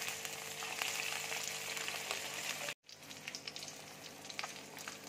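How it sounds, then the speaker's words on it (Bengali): Boiled eggs frying in a little oil give a steady close sizzle and crackle, briefly cut off near the middle, then resuming with lighter popping spatters. "এবার আমি ডিমগুলো এক এক করে তেলের মধ্যে দিয়ে দিচ্ছি"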